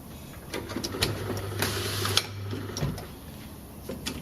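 A semi-automatic bottle label applicator machine running nearby, with a steady motor hum for a couple of seconds, scattered mechanical clicks and ticks, and a faint background whine. No one speaks.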